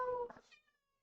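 A cat gives a single short meow, a clear voiced cry that rises and trails off within a second in a quiet room.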